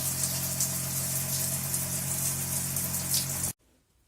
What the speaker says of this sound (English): So here we have the shower on. As you can see, the water flow is being maintained really nicely